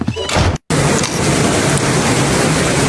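Heavy rain pours steadily onto a porch rain chain, a dense, loud wash of splashing water that continues almost without a break, apart from one brief silent gap near the start.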